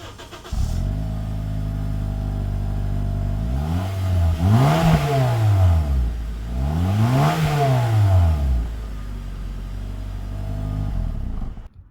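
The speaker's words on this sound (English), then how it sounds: "now we're gonna go to the back and listen to the exhaust" A 2009-2014 Acura TSX idles steadily, then revs up twice in strong, rising-and-falling bursts through the exhaust, rumbling close and loud between them.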